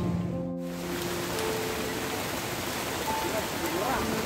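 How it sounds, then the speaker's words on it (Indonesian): Heavy rain pours steadily outdoors, a dense continuous hiss throughout, with a brief voice or tonal sound near the start. "Soalnya hujan gede banget."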